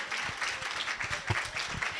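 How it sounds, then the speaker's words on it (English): Brief round of applause from a small audience at a neighborhood leaders' symposium, clapping for the speakers, with scattered hand claps over soft crowd murmur and voices. "Real quick, just have a round of applause for our speakers."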